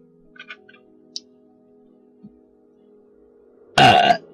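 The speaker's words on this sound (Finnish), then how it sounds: "ASMR röyhtäsy." A single loud, close belch bursts out near the end after a quiet stretch with a few faint clicks, delivered in an ASMR style during a Minecraft gaming session.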